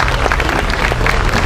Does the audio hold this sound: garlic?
no